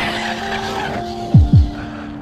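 An Arrma Mojave EXB RC truck drives over a bash site with a steady electric motor whine, then two short loud tire skids follow each other near the end.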